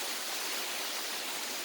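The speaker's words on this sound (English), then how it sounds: "Waterfall. What is called? It's called ภูผาเอราวัณ" Erawan Waterfall in Thailand, its flowing water making a steady, even rush of broadband noise that fills the whole stretch at moderate volume, with no voices over it.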